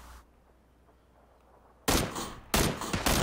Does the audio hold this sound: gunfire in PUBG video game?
yes